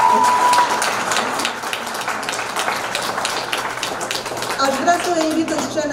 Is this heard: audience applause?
yes